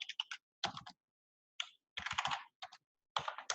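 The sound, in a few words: typing on a computer keyboard into a Google search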